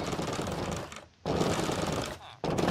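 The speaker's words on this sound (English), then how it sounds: "that noise is the villagers in here trying to get through those doors" Minecraft villagers pushing against doors they cannot open, a dense rapid clattering racket filling the clip in two long bursts broken by brief near-silent gaps.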